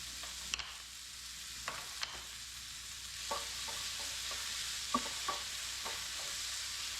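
Green onions and mushrooms fry in a pan as a crepe filling, a steady close sizzle broken by scattered utensil clinks and stirring scrapes.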